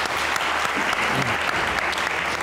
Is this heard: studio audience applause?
yes